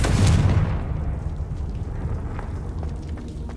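Confringo fire spell in Hogwarts Legacy, a booming fiery blast that opens loud and fades into a long rumbling, crackling tail.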